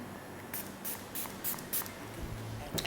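Several short bursts of makeup setting spray misted toward a face while getting ready for a night out, five or six quick hissing puffs spaced about a third of a second apart, close and fairly soft, with no talking.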